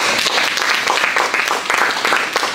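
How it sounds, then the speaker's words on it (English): An audience at a La Jolla Libertarian supper club town hall applauds the candidates with loud, dense clapping that carries on without a break. "Another applause for these great candidates."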